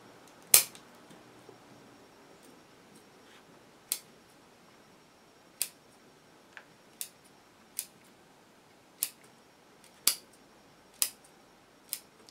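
Scissors snip the roots of a bulgerianum maple bonsai during repotting, giving about ten sharp, isolated clicks spaced a second or so apart against a quiet background.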